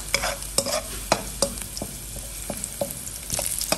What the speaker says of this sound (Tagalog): So gisayin muna natin yung bawang.